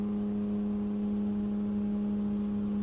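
A vehicle engine revs hard in the survival video game No One Survived, producing a steady, loud mechanical drone with a strong low hum that holds unbroken throughout, with no talking.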